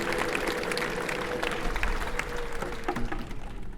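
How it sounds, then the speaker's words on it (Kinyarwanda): A church crowd at a parish pilgrimage gathering claps in sustained applause that comes across soft and somewhat distant, a steady patter of many hands. "Gitabage tuyakiriza amashyi menshi n'impundu."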